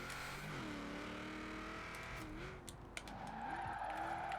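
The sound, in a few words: classic Ford with V8 drifting, video game Forza Horizon 4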